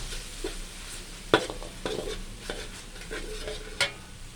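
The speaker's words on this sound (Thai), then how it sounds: "หอยลงไปผัดด้วยเลย" Mussels being stir-fried in a pan for a pineapple curry, a soft steady sizzle broken by a few sharp scraping and clanking stirs of the utensil against the pan.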